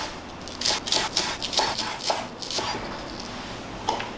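A knife chopping off the ends of an onion on a cutting board, a series of sharp, close, irregular taps, about a dozen in quick uneven clusters.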